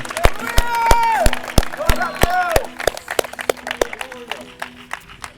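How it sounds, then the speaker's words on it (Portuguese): A church congregation claps in a steady rhythmic beat, sharp hand strikes falling at regular intervals, while a voice sings or calls out loudly above the clapping for the first half. "vamos aplaudir o Senhor"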